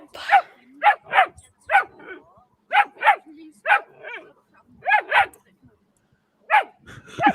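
A small young dog yaps and barks in quick pairs and short bursts, loud and close, with brief whimpering between the volleys and pauses of silence.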